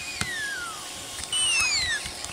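A Little Live Pets toy dragon gives short, high electronic roar sounds that come out more like meows, a couple of brief squeaky calls over a quiet background.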